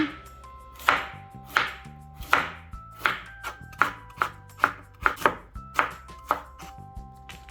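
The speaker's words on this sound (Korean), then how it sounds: "대파 2분의 1 뿌리도 썰어 주셔요" Green onion being chopped with a knife on a board, a rapid run of about a dozen crisp, evenly spaced chops close up, alone without any talking.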